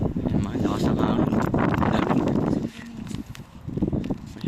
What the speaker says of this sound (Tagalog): mga lakas ng hangin.